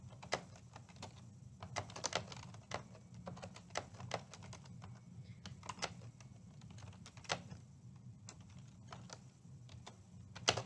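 Typing on a computer keyboard into a form, with irregular bursts of sharp close key clicks spread over the whole stretch, some louder taps, and no talk.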